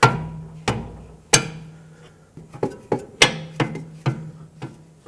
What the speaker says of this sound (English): put a 19mm wrench on it, and I'm just going to tap it with my rubber mallet to help break it free.